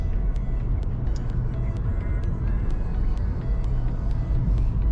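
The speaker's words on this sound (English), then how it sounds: "There's Terry driving the car." A car being driven on a road toward the Cliffs of Moher in Ireland, with a steady, loud engine and road rumble close up and faint ticking above it, and no talk.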